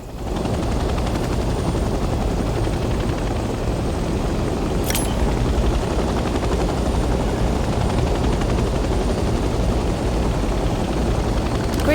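In the video game Hell Let Loose Vietnam, a helicopter's rotor drone fills the scene with a steady, loud, continuous whir and low thumping, unbroken throughout with no voices.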